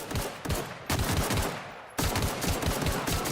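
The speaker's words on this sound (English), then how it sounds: "took out the big freaking gun" Heavy automatic gunfire from a big gun in the video game The Outer Worlds, loud dense bursts of rapid shots with brief pauses, close and dominant.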